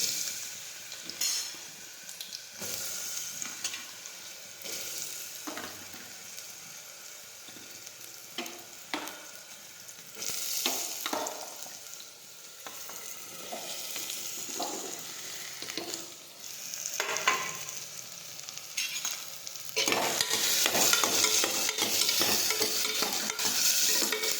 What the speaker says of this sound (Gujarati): હવે આપણું તેલ છે તે ગરમ થઈ ગયું છે હવે આપણે તેમાં લસણ નાખી દઈશું જીરું અને રાઈ નાખીશું